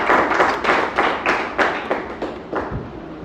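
Small audience clapping for TM Sunil, a rhythmic run of distinct, fairly close hand claps that rise and fade in waves before trailing off.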